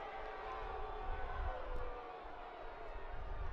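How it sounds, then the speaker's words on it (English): Stadium crowd murmuring at a USL Jägermeister Cup football match between Spokane Velocity FC and Central Valley Fuego FC after a late foul, a steady broad rumble of many distant voices with small swells, no single voice standing out. "some of those repercussions of the early bookings causing some murmurs throughout the crowd"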